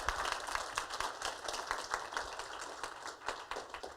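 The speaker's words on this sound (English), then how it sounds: "So round of applause, please." Audience applause closing a child abuse prevention panel, fairly faint and steady with clustered claps throughout.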